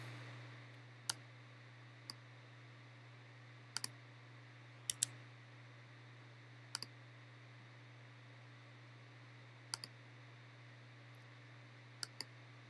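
A computer mouse clicks in Maya software, giving sparse, sharp, close clicks at irregular intervals, some in quick pairs, over a faint steady electrical hum.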